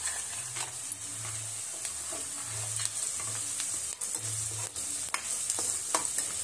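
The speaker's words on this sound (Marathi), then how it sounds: "ते आता आपल्याला व्यवस्थित तेलात परतून घ्यायचं आहे। ते व्यवस्थित परतून झाले की ह्यात आपल्याला हे शेंगदाणे भाजलेले आहेत ते घालून" Roasted peanuts sizzle and fry in hot oil as a spoon stirs them for kanda poha, giving a steady close hiss with repeated scraping strokes.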